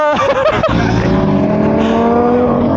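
A Ferrari supercar engine revs loudly and close by, a dense, steady mechanical roar holding for about three seconds after a brief sharp onset.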